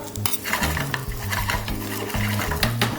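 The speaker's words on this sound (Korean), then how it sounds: "여기에 썰어 놓은 향채, 생강, 마늘, 대파를 먼저 좀 볶아주겠습니다" Chopped ginger, garlic and scallion stir-fried in a hot oiled pan while making nanjawanseu give a loud continuous sizzle, with a metal utensil scraping and clanking against the pan throughout.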